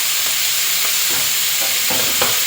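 Blanched Chinese kale stir-fried with garlic and salted fish in a hot pan makes a constant loud sizzle, with rhythmic scraping and tossing strokes cutting through it.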